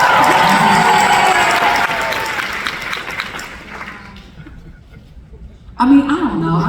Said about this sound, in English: Guys, clap for Meg.